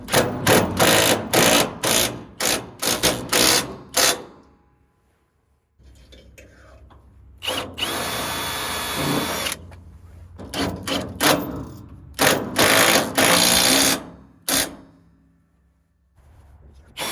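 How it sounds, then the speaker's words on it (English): Lag screws with washers are driven up through 2x4s into a sawmill roof frame in loud, close bursts of power-tool whirring, each run lasting one to several seconds and separated by brief pauses. "this is just gonna prevent us from splitting the 2x4s as we put our lag screws up through"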